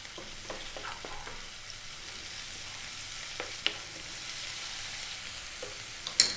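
Onions fry with garlic ginger paste in a pan for a vegan mushroom curry, a soft steady sizzle broken by occasional stirring clinks and scrapes, with a sharper knock near the end.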